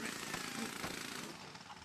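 Construction work in the Ratchet & Clank video game: a loud, rapid jackhammer-like rattling clatter runs continuously over a short stretch.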